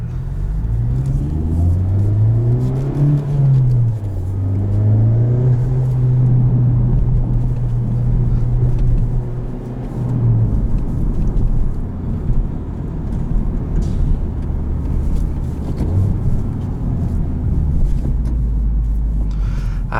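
A 2019 Honda Civic Type R engine hums and rumbles steadily from inside the cabin while driving, its pitch rising briefly as it revs then holding a continuous drone throughout.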